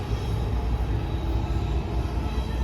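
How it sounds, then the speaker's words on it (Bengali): A train passes through hilly country in Assam as a steady, fairly distant low rumble. It holds evenly for the whole stretch, with no voices. "ওই যে ট্রেন"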